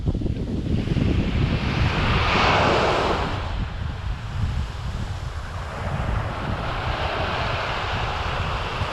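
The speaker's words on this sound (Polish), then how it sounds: "Posłuchajmy, posłuchajmy szumu morza." Sea waves off Florida wash in with a broad, steady roar, swelling into a louder surge early on, with gusty wind buffeting close by.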